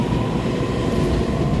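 An EMU3000 twelve-car intercity express train departs a station, giving a steady, loud rumble of rolling wheels and rail noise that holds evenly throughout with no voices.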